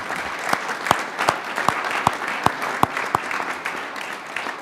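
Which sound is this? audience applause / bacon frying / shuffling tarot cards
audience applause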